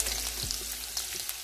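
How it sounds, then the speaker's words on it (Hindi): Garlic hitting hot oil in a frying pan while making chilli chicken, a steady close hiss and crackle of sizzling with faint stirring scrapes, no voices. "ये लहसुन डालेंगे।"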